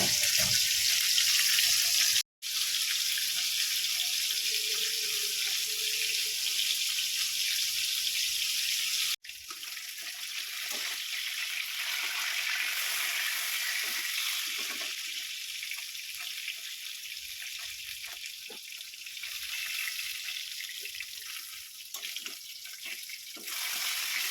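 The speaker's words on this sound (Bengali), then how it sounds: "মাছটা ভাজা হচ্ছে" Fish fries in a pan of oil, a steady close hiss and sizzle with crackling spits, broken by two brief cuts, gradually thinning to a softer sputter.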